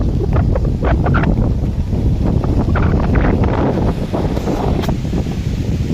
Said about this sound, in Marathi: वार सुटले